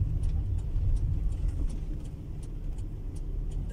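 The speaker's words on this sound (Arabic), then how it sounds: "دوس البنزين" A car engine hums steadily and fairly loud, rising under the gas pedal during a driving lesson, with a continuous low rumble that holds throughout and no talk.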